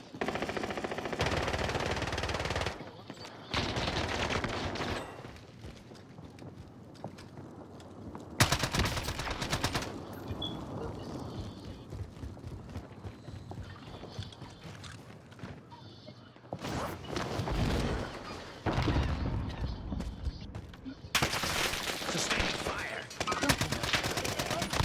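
Call of Duty: Modern Warfare gunfire rattles in repeated bursts of automatic fire with sharp single shots, loud and close, continuing over most of the stretch while someone talks now and then.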